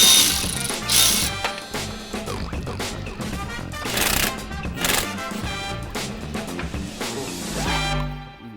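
A ratchet works loose a strut bolt on a BMW E92 M3 during a suspension install, making rapid, close clicking bursts with a few louder pauses between them, alone without talk.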